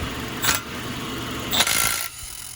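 A Milwaukee right-angle 3/8-inch impact wrench loosens a brake caliper bolt on a Honda Civic, giving two short bursts of rattling hammering about a second apart, the second longer, over low shop background noise.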